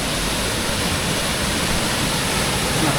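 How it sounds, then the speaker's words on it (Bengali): Steady, loud roar of the Nafakhum waterfall, a continuous broadband rush of falling water filling the whole clip with no pauses and no voices. "নাফাখুমের ঝর্ণা, বাহ"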